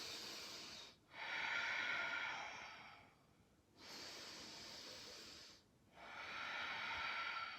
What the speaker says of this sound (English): still breathing through your nose if you can